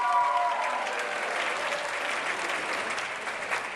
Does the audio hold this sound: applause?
yes